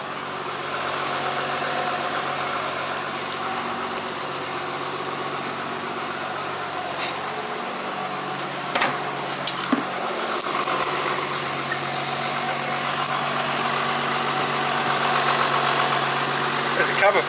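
A Nissan R32 Skyline engine idles steadily with a smooth, even rumble, close by, with a couple of faint clicks partway through.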